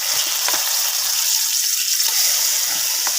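Onion, garlic and ginger sauté in a pan, making a loud, continuous close-up sizzle with faint stirring scrapes underneath.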